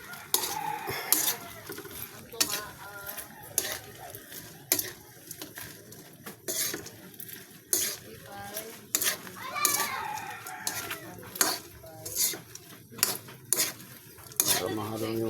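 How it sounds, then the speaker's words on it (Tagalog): Spoon stirring sugar into a mixture in a pot or bowl, with repeated sharp clinks and scraping in an uneven rhythm, close by, while children chatter and talk in the background. "Para mahalo yung asukal."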